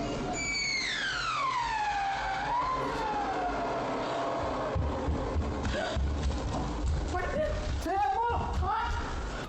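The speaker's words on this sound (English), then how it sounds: "the fire alarm finally starts sounding off" A home fire alarm goes off during a kitchen fire: a loud, high-pitched wailing tone that sweeps downward with strong harmonics, then fades into noisy commotion and scattered chirps, with voices in the background.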